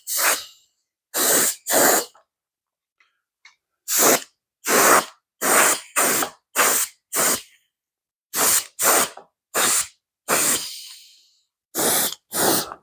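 Airbrush sprays Tru-Color TCP-056 blue paint onto an HO scale model, heard as a series of short, loud, close hissing bursts in an uneven rhythm with brief silences between them.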